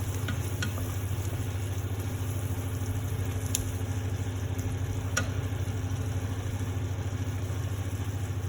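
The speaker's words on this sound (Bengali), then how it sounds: "এবার এই মিনিট খানেক কষে নেবো" Spice masala for a Bengali egg curry sizzles in a pan while being sautéed, a steady close frying hiss over a constant low hum, with a few faint clinks.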